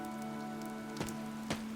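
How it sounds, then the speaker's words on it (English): Steady rain falls in a video game cutscene, a constant hiss with a sustained low tone beneath and two brief louder drips or splashes near the end. "This rain threatens a coming storm."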